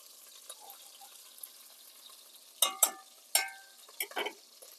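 Hamburger meat searing in a hot pan for soup, heard as a quiet steady sizzle with several sharp, louder crackling bursts toward the end.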